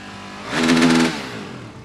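Enduro motorcycle engine revved hard at full throttle for a trackside noise test before a race, a single loud sustained roar building and easing off over about half a second, alone without talk.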